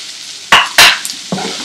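Finely chopped onions frying in a pan over a low flame, with two loud close bursts of sizzling as they are stirred, then a softer sizzle, over a quiet background.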